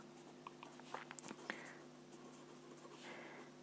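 A pen or marker taps and scratches on a board in short, light strokes during a physics lesson on electric fields, faint against a steady low hum in a quiet room.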